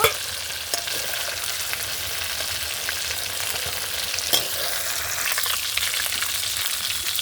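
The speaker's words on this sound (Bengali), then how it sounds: "মাংসটা লাল লাল করে ভেজে নিয়েছি দেখুন" Chicken pieces frying in oil in a pan until reddish-brown, for a light chicken and potato curry; a steady, close sizzle runs throughout with faint stirring scrapes and no voices.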